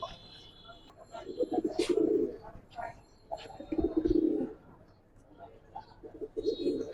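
Giribaz pigeons cooing in Old Dhaka, repeated low throaty coos and soft bubbling calls at close range, with people talking nearby.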